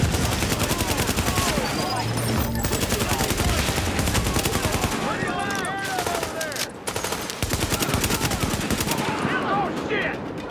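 Dense, sustained gunfire from a firefight in The Division, rapid automatic bursts and overlapping shots loud and continuous throughout, with brief gaps and faint voices under the shooting.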